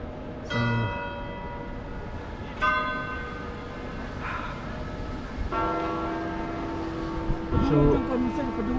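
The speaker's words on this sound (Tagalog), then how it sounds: "Kampana ng ano, Vatican." Church bells of St. Peter's Basilica in the Vatican ringing repeatedly, each toll resonant and overlapping the last, heard outdoors over ambient crowd noise with people talking nearby.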